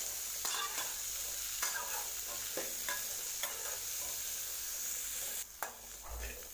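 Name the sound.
stirring chickpeas with salt in a pan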